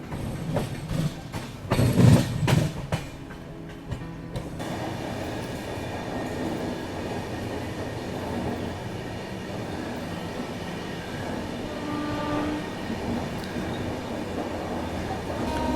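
A train on a parallel track rushes past an Indore–Daund Express in motion, a steady loud roar of wheels and carriages with rattling and faint squeals, heard from on board after a few sharp knocks at the start.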